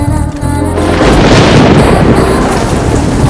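Heavy rain pours in a dense, loud wash, with a low rumbling burst like thunder near the start, and no talking.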